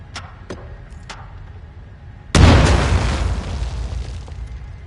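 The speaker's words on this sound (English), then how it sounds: "Grenade out!" In the shooter game Titanfall 2, a grenade goes off with a sudden loud, close boom that rolls into a long rumbling decay, preceded by a few faint ticks and clicks.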